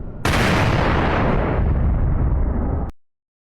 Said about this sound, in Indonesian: Begitulah suara pistol yang ditembakkan oleh seorang komandan kepada seorang tentara Jepang